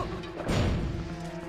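A single heavy crash as a statue smashes objects in the Zelda Twilight Princess video game, a sharp impact over a low steady game background.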